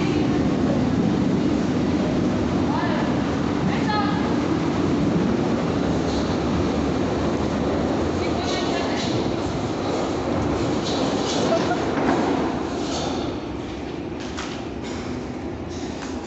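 A Berlin U-Bahn train rumbles and rattles along the track at Rohrdamm, with squealing metallic tones, loud and close, easing slightly toward the end.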